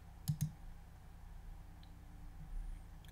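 A computer mouse clicks the More button in a Gmail contacts screen, giving two quick close clicks in a row followed by a faint later tap over a quiet room hum.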